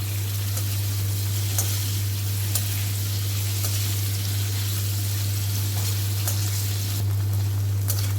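Paneer cubes frying in a pan while being stirred give a steady, close sizzle with faint scraping and clicks, over a low constant hum.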